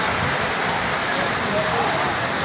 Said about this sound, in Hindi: शदीद बारिश